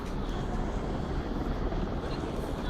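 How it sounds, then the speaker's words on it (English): A dense, rumbling engine drone fills the air steadily as a helicopter flies overhead in Sydney near Anzac Bridge, with a faint murmur of voices beneath. "There's a helicopter up there"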